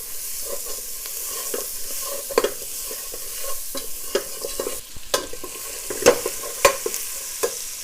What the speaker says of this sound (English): just mix it around so the spices are marinating with the vegetables